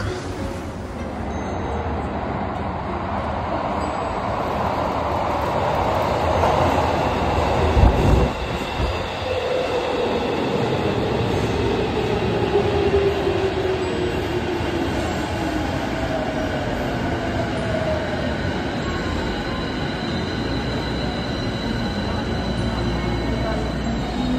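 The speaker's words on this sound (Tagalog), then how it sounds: "Yushima Station pala yung sasakyan natin. So, subway siya." A Tokyo subway train at Yushima Station rumbles steadily through the whole stretch, with a rising whine and a sharp rattle near the middle as cars pass close by.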